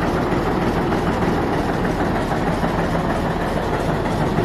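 A Komatsu D355 bulldozer engine runs close by, a loud, steady, low diesel rumble that goes on throughout with no break.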